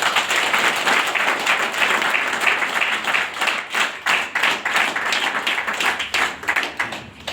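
An audience at a business meeting program breaks into loud clapping, a dense burst of applause that thins into scattered individual claps toward the end.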